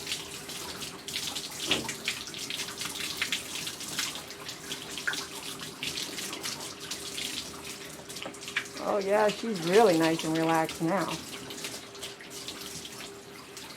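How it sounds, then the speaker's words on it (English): Tap water runs steadily while a dog is bathed during grooming, a constant splashing hiss throughout, with someone speaking softly over it partway through. "I'm getting water all over myself."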